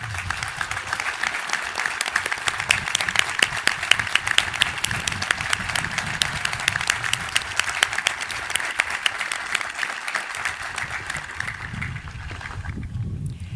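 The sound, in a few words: audience applause for staff members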